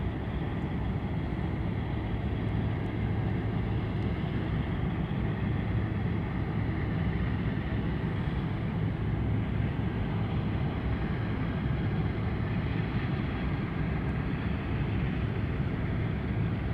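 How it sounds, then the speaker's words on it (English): A Lockheed C-130 Hercules turboprop drones steadily at Anchorage airport in Alaska, a continuous loud engine roar with constant broadband rumble, no voices. "I'm hearing something really, really cool. I think we have a Hercules."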